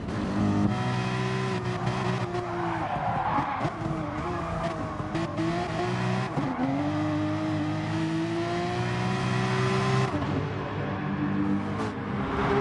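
Race cars including an AMG in Gran Turismo Sport at Mount Panorama, layered engine drones rising and falling through gear changes, with tyre noise, steady and close throughout.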